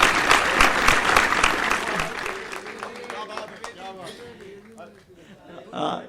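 An audience at the Jashn-e-Urdu youth mushaira in New Delhi applauds to welcome a poet, loud dense clapping that gradually fades, with voices mixed in and a brief swell near the end.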